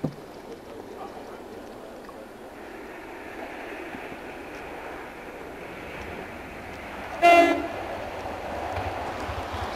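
A train from Oakham to Peterborough rumbles past near Manton by Rutland Water, heard from a working signal box, a low steady rolling with a short loud horn blast partway through, while a person talks.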